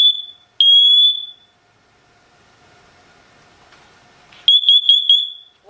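A SITERWELL hardwired interconnected smoke and carbon monoxide detector sounds its test alarm in loud, piercing electronic beeps, two long tones, a quiet gap with faint room noise, then a rapid burst of pulses.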